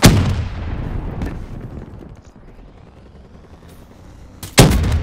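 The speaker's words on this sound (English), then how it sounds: "He actually just shot the rocket off." A rocket fired in a video game: a sharp blast at the start, another burst shortly after, a long fading rumble, then a second loud boom near the end.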